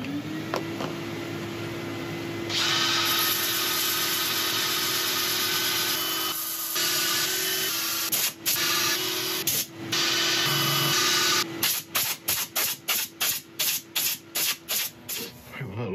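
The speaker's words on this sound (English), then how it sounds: "I'm going to set up for sanding." A greenheart and purpleheart wooden mallet is sanded on a woodturning lathe, giving a steady loud hiss over the motor's hum, which later breaks into rapid repeated strokes.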